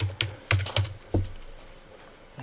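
A few quick keystrokes on a computer keyboard, close and crisp, tapped in short bursts with brief pauses between them and a final isolated press, no voices.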